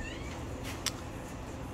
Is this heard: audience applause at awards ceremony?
no